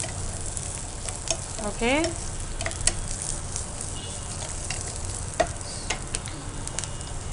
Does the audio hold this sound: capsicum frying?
yes